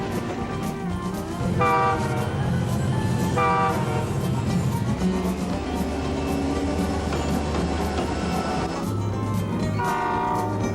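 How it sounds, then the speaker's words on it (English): Diesel locomotives rumble steadily with a deep engine drone, while a train horn sounds in several loud blasts over the continuous roar. "Let's watch some diesel locomotives run."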